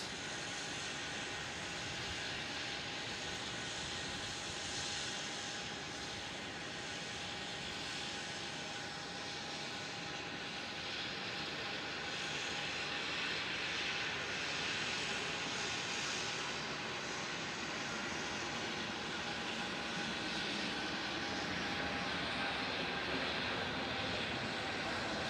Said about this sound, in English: China Eastern 787-9 heading back to Shanghai. Rolling on runway 16.